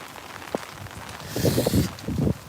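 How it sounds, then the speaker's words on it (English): Rain falls steadily in an open-air Japanese bonsai garden, a soft constant hiss with scattered drips and a few louder patters, heard close with no talking. "The rain coming down."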